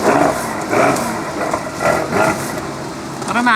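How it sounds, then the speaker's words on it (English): SUV engine at close range, idling roughly with a few short revs rising and falling in pulses, fairly loud, with a brief bit of background voice near the end. "How cool does this sound for an SUV?"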